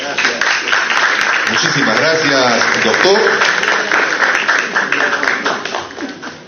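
An audience at a formal legislative forum applauds steadily in a continuous, fairly loud wash of clapping. Someone speaks into a microphone over the applause.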